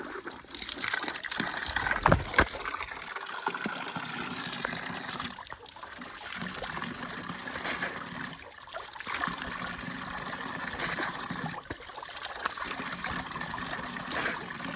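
Water running from a pipe under hot sun, a continuous uneven trickling and splashing flow close by with small surges throughout.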